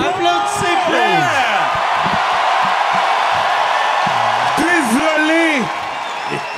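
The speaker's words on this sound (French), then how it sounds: "Applaudissez Preach." Arena audience at a live comedy podcast taping cheering and clapping as a performer comes on stage, with loud whoops and yells over continuous applause that eases off near the end.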